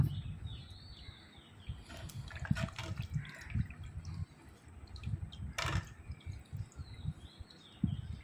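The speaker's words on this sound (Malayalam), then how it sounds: "പൈപ്പിൻ്റെ ചോട്ടി കാണിച്ചിട്ട് നമുക്ക് ഉള്ളിലൊക്കെ നല്ലോണം വെള്ളം അടിച്ച് നല്ലോണം കഴുകണം" Fish being washed under a running tap, rinsing blood from the inside, gives a steady wash of splashing water with irregular louder surges and drips, close by and without speech.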